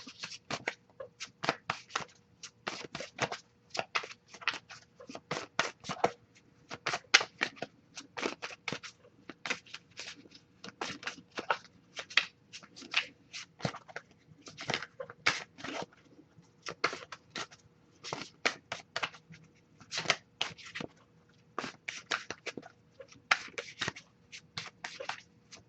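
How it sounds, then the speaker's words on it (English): Tarot cards are shuffled by hand in a quiet room, with quick irregular bursts of papery riffling and flicking that repeat close up for the whole stretch. "Alright, I'll shuffle a little bit more to see if we get anything,"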